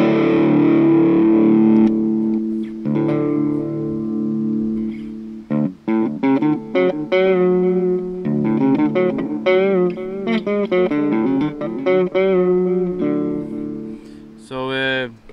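Twangy cigar box guitar with an oak neck, played acoustically and strummed and picked up close, with sustained ringing chords giving way to quicker melodic runs and slides.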